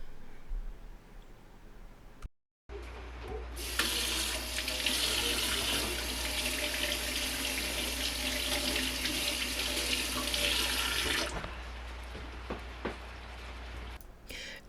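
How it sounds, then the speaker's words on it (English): Tap water runs into a kitchen sink while green peppers are washed under it, a steady loud rush lasting several seconds after a brief pause, then shutting off to quieter handling sounds. "After you wash your green peppers"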